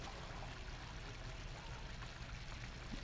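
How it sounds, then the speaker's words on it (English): Water pours steadily into a pan of pork and bamboo shoot stir fry, a faint continuous stream with no talk over it. "So I'm gonna add water in there."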